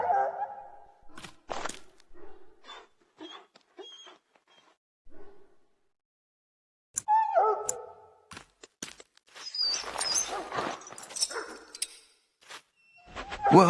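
A dog in Dragon Age: Origins whimpering and yelping in short bursts with pauses between, followed by louder clustered yelps and scuffling. Close and fairly loud, no speech.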